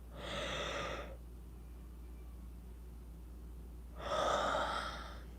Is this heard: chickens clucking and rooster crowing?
no